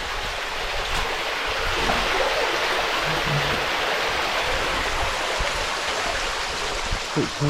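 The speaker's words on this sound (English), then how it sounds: "Creek comes out over there and keeps going through the woods." A creek flows steadily through the woods beside a road and rock bridge on a mountain, a continuous broad rush of water, close and fairly loud, with no talk.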